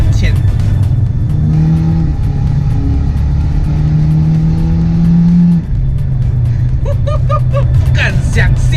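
A Mitsubishi Lancer Evolution X Final Edition in Sport mode drops from fifth to third gear, its engine droning loudly near 3000 rpm with rising and falling pitch while someone talks over it.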